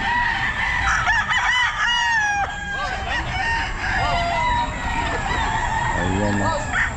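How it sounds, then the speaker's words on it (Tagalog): Many roosters crow over and over at a busy Bocaue pet market, several loud overlapping cock-a-doodle-doos near and farther off, with hens clucking and crowd noise filling the background. "Ayan mga kasabong, maraming manok."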